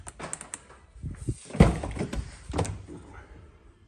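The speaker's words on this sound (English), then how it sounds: "Door's locked." Door lock actuators on a 2010 Audi A6 Allroad 3.0 TDI clunk with a few sharp mechanical thuds, one loud knock standing out mid-way, close by amid faint background noise.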